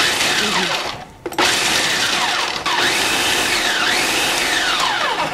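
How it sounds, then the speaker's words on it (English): A Farberware food processor runs in chop mode, a loud whirring motor blade with a brief stop and restart as it pulses a couple of times, the whine rising and falling while it chops. "hit your chop mode, and then pulse it a couple of times"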